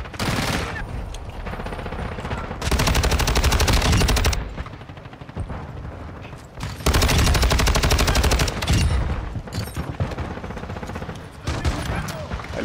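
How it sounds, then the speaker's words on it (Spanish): Automatic gunfire in Call of Duty: Modern Warfare II, with two long, loud bursts of rapid shots and some lighter firing between them. Faint talk sits beneath the game sounds. "Pero si le está disparando desde atrás."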